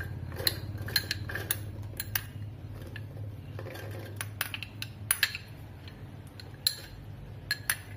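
Boiled, salted chickpeas are added to a mixer jar for a chickpea shake, giving quiet, scattered clinks and taps against the jar over a low steady background hum.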